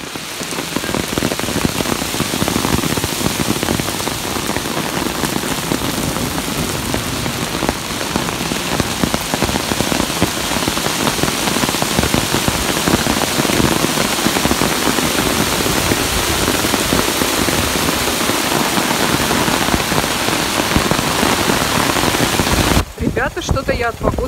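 Hail pelts down hard and steadily in a dense, loud, unbroken clatter with no pauses, then cuts off abruptly near the end.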